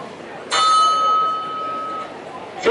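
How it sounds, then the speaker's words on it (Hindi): A school bell rings out in a classroom with a sudden bright onset, its steady metallic tone sustaining for about two seconds before fading, fairly close and loud. "फिर घंटी बजती है"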